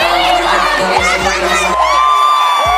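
A large crowd of nearly 6,000 people cheering and whooping at Caitlin Clark's WNBA draft party, loud and close, a sustained roar with shouts and yells rising over it.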